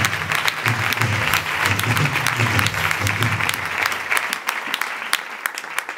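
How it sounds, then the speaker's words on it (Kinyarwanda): A church congregation at a prayer gathering for church leaders applauds loudly, a thick wash of many hands clapping that holds steady, then thins and fades toward the end, leaving scattered claps. "bohaguruka mukongera mugakomera Imana amashyi"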